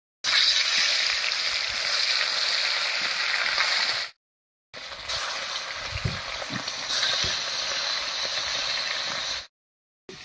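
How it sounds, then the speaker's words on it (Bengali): Live koi fish fry in mustard oil in a kadai over a stove, giving a steady, bright sizzling hiss broken by two brief silent cuts, with faint pops underneath. "মাছটা ভাজা হতে থাক"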